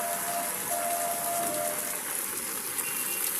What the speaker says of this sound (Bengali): প্রচণ্ড বৃষ্টি দেখুন এখন আমি ছাদের উপরে আছি